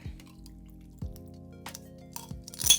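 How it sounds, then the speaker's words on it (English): A gin basil smash is double strained into a glass full of ice, with soft dripping and trickling liquid and a few light clinks of ice and glass, quiet and close, building to a brief louder splash at the end. "we're just going to double strain this in."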